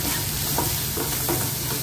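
Masala and onions sautéing in oil in a pan, a steady soft sizzle with a few faint stirring scrapes, close and continuous, no voices.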